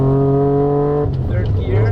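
Mazda RX-7 FD with a T56 Magnum gearbox swap pulling hard in second gear, a loud, close, steady engine drone that climbs in pitch, then drops and resettles as the next gear catches.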